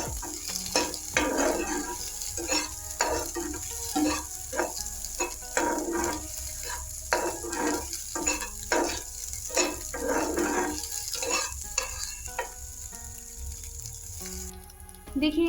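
Egg bhurji with finely chopped coriander is stirred in a hot pan, giving a steady sizzle with repeated scraping strokes in an uneven rhythm, close and moderately loud throughout.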